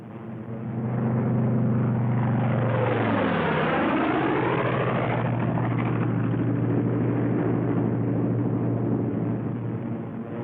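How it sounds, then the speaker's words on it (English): World War II fighter planes peeling off one after another from a loose string formation, a loud continuous engine roar with a pitch that sweeps down and then up as aircraft pass close by, sustained throughout with no talk. "Leader section goes into loose string formation. One plane behind the other."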